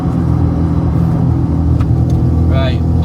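A car with a 300bhp VW 2.0 TFSI engine conversion drives along, its loud, steady low engine roar running throughout and a brief higher whine near the end.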